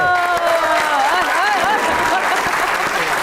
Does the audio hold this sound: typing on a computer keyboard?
no